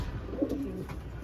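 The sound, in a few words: pigeons cooing in a loft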